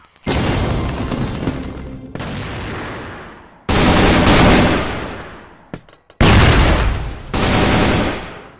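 A flash bomb going off in the Crossfire shooter game, a loud, broad burst followed by a long ringing, hissing wash, with more sustained blasts after it.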